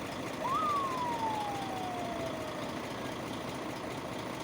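A single distant ambulance siren wail on a ring road sweeps down in pitch over a steady low engine rumble, faint against the background noise.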